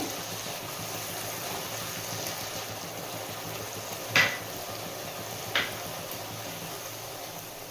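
Pointed gourd with fish being sautéed in a pan, giving a low steady sizzle and hiss with two brief metallic knocks of a spoon against the pan, close and quiet with no talk.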